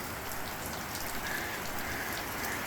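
Steady rain falls outside Lovicks Hut, a large stone-floored mountain hut, as a continuous dense patter with occasional brighter drips, moderately loud and even throughout with no voices.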